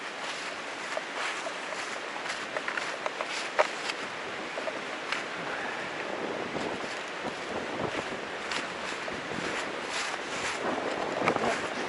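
Gusty wind buffets the microphone on an exposed mountain ridge in the Smoky Mountains, a steady rushing roar with brief louder swells and no one speaking.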